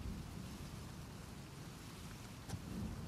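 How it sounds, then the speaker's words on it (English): Steady rain falls in a stormy scene from the video game Uncharted 4, a constant dense hiss with low rumble underneath and one brief sharper crack near the end, at moderate level with no talk. "It's raining now."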